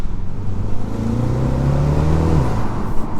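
Engine note of a BMW X2 M35i sports activity coupe with a 2-litre inline four-cylinder, revving steadily and loud from the driving seat, the pitch climbing and then dropping, with no talking over it.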